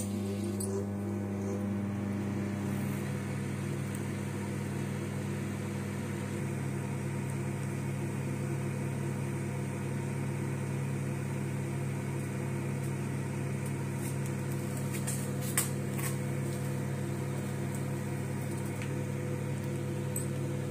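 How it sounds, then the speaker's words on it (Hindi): A microwave oven roasting cumin seeds runs with a steady low mechanical hum, droning on without a break nearby, with a few faint clicks and rattles near the end. "फिर से माइक्रोवेव स्टार्ट कर देंगे"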